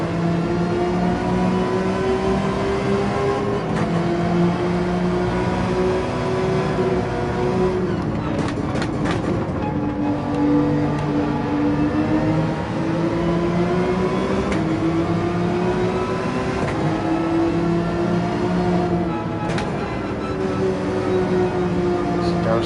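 A race car's engine in Gran Turismo 7 drones and revs steadily throughout, with pitch rising and falling through gear changes, loud and continuous.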